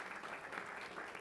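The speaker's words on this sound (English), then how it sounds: "I think we should clap for them one more time." Faint, brief clapping from a church congregation, a soft continuous patter lasting just over a second.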